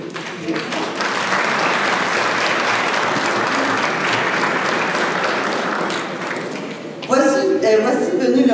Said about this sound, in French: Je crois que des applaudissements sont mérités